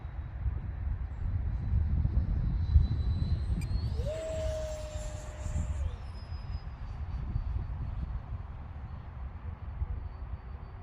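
Freewing 64mm F-22 RC jet with an X-fly 12-blade electric ducted fan flying in gusty wind, a steady distant fan whine under heavy wind rumble on the microphone, with a brief rising-and-falling pass tone midway.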